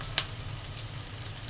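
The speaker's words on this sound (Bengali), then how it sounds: "পেঁয়াজটা হালকা ভেজে নিলাম, এখন হলুদ ফাঁকি দিয়ে দিব" Onion lightly frying in a pan with spices such as turmeric, dry chilli, coriander and cumin, a soft steady sizzle with one brief clink of a utensil near the start.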